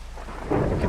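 Thunderstorm in Minecraft with shaders enabled, a low rumble of thunder under hissing rain that grows louder halfway through the short stretch.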